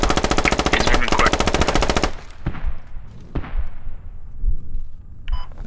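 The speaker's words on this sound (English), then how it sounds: "Incoming rounds. Get in cover." Incoming gunfire in a squad-based video game battle: a dense, loud burst of rapid machine-gun fire for about two seconds, followed by scattered single shots and distant cracks fading out, with a brief electronic beep near the end.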